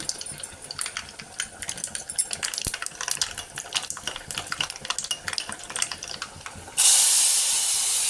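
Asafoetida drops into hot oil for a tempering, giving crackly, uneven sizzling and spitting that shifts into a steady loud hiss toward the end.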